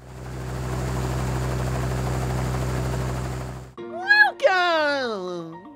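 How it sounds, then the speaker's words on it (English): A Roblox helicopter drones steadily with a low, even engine and rotor hum for several seconds, then cuts off as a voice speaks over it. "Let's get to the chopper now"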